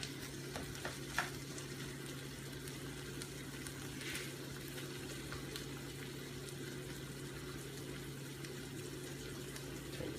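Shrimp udon fries in a hot wok with a steady, low sizzle and occasional light stirring clicks, fairly faint and close, with no talking.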